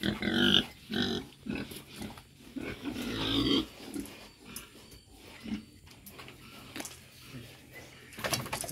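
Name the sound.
pigs grunting on a small farm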